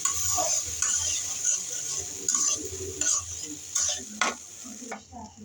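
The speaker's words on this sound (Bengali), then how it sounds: "মশলাটা ভালো করে কষানো হচ্ছে দেখুন কি সুন্দর কালার আসছে আস্তে আস্তে" Bengali-style spice paste for bata fish curry being stirred and sautéed in a pan, with steady close sizzling and repeated scraping strokes of the spoon, and a few sharper clinks near the end.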